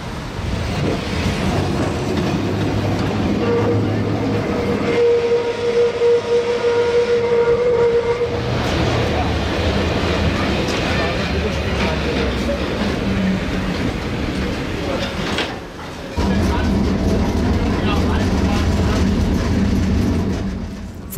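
A Thüringer Waldbahn interurban tram runs on its line toward Tabarz at the foot of the Thuringian Forest, rumbling and clattering steadily over the rails for the whole stretch, with a sustained tone sounding partway through.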